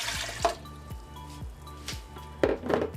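One and a half cups of tepid water being poured for bread dough, with splashing and dripping into a container, a few distinct plops and a brief gush near the end, close and quiet, with no speech.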